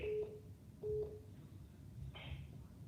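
Two short telephone keypad tones beep in quick succession over a call-in radio show phone line, followed by a higher electronic tone, all fairly clear over steady line hiss.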